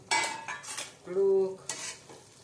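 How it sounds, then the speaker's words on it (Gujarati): A spoon stirring brinjal and potato curry in a pan, scraping and clinking against metal in short bursts with a soft sizzle beneath, close and clear, no talking. "હવે હલાવી લેશું થોડુંક"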